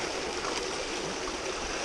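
Water rushes steadily from a pump whose intake sits too shallow, producing a continuous splashing, gurgling flow like a small stream, close and even with no talking over it.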